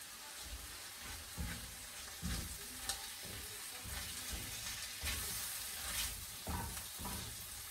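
A spoon scrapes and stirs through an aubergine and chickpea bhuna in a pan, with a steady sizzle of frying underneath and repeated scraping strokes. The sound is fairly quiet and close.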